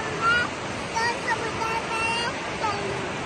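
Sea waves wash continuously around someone playing in the water at Malvan, a broad steady roar of surf with faint voices mixed in.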